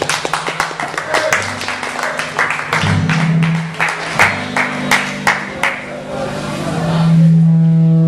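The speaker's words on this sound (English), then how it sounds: "We want to give a nice round of applause." An open mic audience claps and applauds for a first-time performer, scattered sharp claps building over several seconds alongside a low sustained hum and a few voices.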